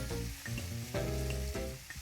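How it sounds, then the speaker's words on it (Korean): Kimchi sizzles and crackles as it is stir-fried in a pan for low-sugar kimchi fried rice. The frying hiss is steady and close with no talk, and a few soft scrapes from stirring rise above it. "저당 김치볶음밥을 만들기 위해 김치를 볶는 그녀"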